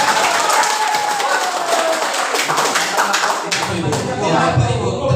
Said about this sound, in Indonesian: Bapak Ibu tepuk tangan